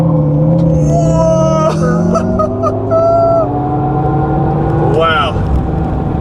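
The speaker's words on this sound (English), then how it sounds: "I'm gonna floor it and then release the brake." A 2024 electric Hummer SUV launches at full throttle from a standstill on an empty road, a loud, rising electric whine with tire and road roar building steadily while people talk over it.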